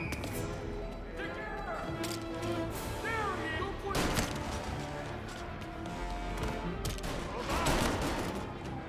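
Gunfire rings out in Mafia: Definitive Edition, set in 1938, as several sharp shots crack over a busy game soundscape, with a few louder reports standing out among the rest.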